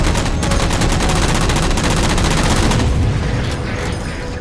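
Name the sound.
gunfire shooting down jammers in video game Halo 4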